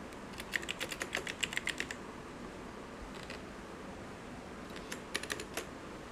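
Computer keyboard keys pressed in two quick bursts of typing clicks, a run of about a dozen taps early on and a shorter cluster near the end, fairly close against a quiet room hiss.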